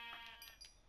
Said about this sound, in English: Need to go get these sheep so I can get the wool.